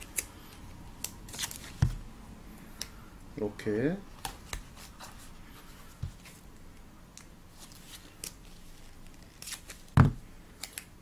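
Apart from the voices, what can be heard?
handling and cutting 3M double-sided tape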